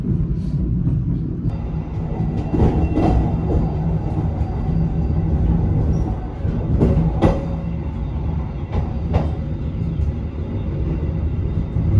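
A Serayu passenger train runs along a mountain railway line toward a station, its steady loud rumble and rattling wheels continuous throughout, with occasional sharper clanks and squeals over the constant roar.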